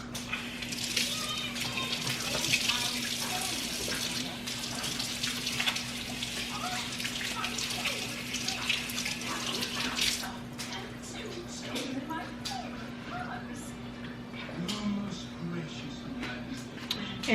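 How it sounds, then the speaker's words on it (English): Tap water runs steadily into a kitchen sink as hands are washed during meat preparation for al pastor, a continuous close splashing hiss with someone talking over it. "I'm gonna just go ahead and wash my hands up a little bit."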